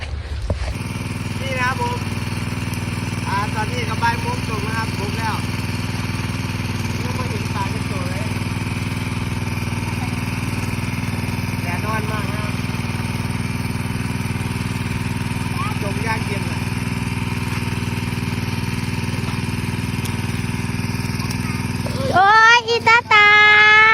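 An engine-driven pump draining a village pond in rural Isan, Thailand: a steady, loud low engine drone running throughout, with faint chirps over it and a brief burst of louder mechanical noise near the end.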